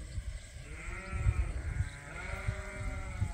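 Sheep being herded out of a barn on a farm bleat repeatedly, several close calls overlapping against low shuffling and movement noise.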